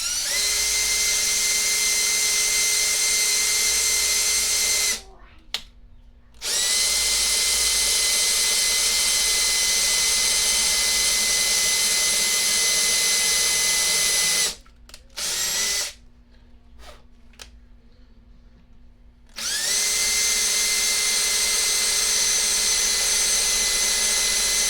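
Hand-held power drill boring holes for a bolt-on guitar neck, running in long loud whining bursts with three brief pauses between them, the motor spinning down and back up each time.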